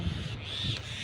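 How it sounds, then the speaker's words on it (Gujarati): Harsh, scratchy myna calls ring out over steady outdoor background noise on a farm field, with several overlapping chattering cries through the moment. "આ બાજુ ને પક્ષીઓ બોલે છે કાબરું બોલે છે"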